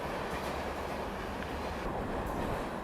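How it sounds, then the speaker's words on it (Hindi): The Ayodhya Express train rushes past on the tracks in Jharkhand, a loud, continuous broadband roar of wheels and carriages heard close up from a neighbouring train, with no voices. "तो ये है अयोध्या एक्सप्रेस।"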